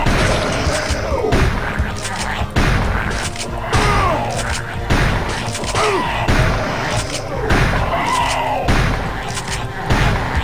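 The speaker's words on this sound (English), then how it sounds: "Basically, you just fire away at this thing." Weapon fire in the video game Turok 2 (Nightdive PC remaster): loud, repeated bursts of blasts and booming impacts in rough bunches, dense and continuous over ten seconds with no one talking.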